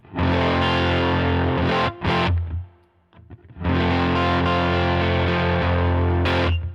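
Crunchy electric guitar on the middle pickup via a Line 6 HX Stomp amp model, two loud strummed chord bursts separated by a brief fading gap, heard alone up close.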